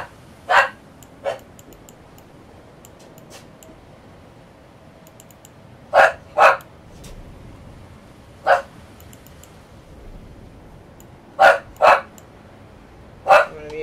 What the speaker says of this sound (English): I'm gonna mute this because my dog is barking until somebody's here.